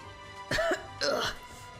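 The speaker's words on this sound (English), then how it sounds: "Mr. Cherney, you're coughing up blood again" Two short, harsh coughing bursts from a character coughing up blood in the video game Arknights, about half a second apart, close and fairly loud over a steady low background hum.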